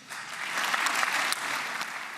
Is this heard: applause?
yes